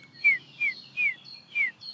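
A Eurasian bullfinch gives four soft, evenly spaced piping calls at moderate distance in a quiet setting with no voices.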